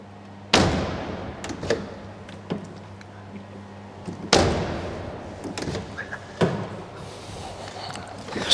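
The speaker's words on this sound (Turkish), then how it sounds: "İlk olarak bir kapı sesi dinleteyim mi size?" Two heavy slams of a 7.5-litre V8 Oldsmobile Toronado car door closing in a garage, loud and near, each followed by a short rattle and ring, with a lighter third thump and small handling sounds between.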